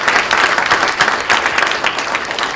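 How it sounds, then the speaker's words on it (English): An audience at a lecture event bursts into a loud, close round of applause, many hands clapping in a dense, slightly pulsing patter from start to finish. "how about a round of applause for that tour de force from Professor Brownlee?"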